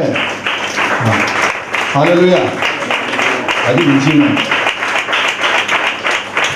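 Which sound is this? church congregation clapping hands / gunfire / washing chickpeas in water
church congregation clapping hands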